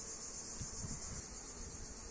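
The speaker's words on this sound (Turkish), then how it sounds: "2 numarada arı değil de sinekler rahatsız ediyor beni şu anda" Flies buzz around an open beehive during a colony inspection, a continuous close insect hum and whine that holds steady throughout with no voices.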